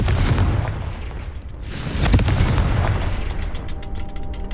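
A Confringo fire spell in Hogwarts Legacy detonates with a deep, loud boom and a crackling burst, then the blast rumble fades with scattered crackles, alone and close.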